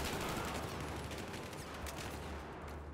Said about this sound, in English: there's someone who's shooting my teammates